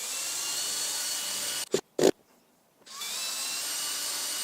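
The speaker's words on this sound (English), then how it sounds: "We're going to screw the tank valve head in place to secure it so it doesn't turn" A power drill drives screws to secure a toilet tank valve head: two short, close whirring bursts in quick succession, then a brief near-silent pause.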